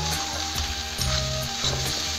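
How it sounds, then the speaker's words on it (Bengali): Prawns fry in a pan, giving a constant close sizzle with periodic scraping, clattering stirs from a utensil, with no talking. "এই যে আমার চিংড়ি মাছটা প্রায় ভাজা হয়ে গেছে"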